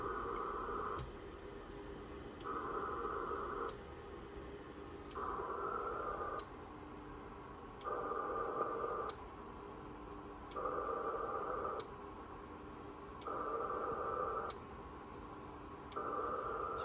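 A ham radio digital mode tries to connect on the 20-meter band near a 14105 dial frequency. About seven regular bursts of warbling tone alternate with quieter gaps of static and faint ticking.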